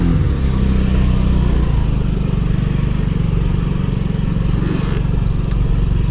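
A Honda Ruckus scooter being ridden: a loud, steady, close-up small-engine drone with a rapid throbbing pulse that holds even throughout, with wind noise and no talking.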